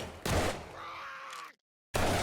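Automated base turrets firing in the zombie survival game 7 Days To Die, a loud burst of shots, then a rattling stretch, a sudden cutoff into silence and another burst.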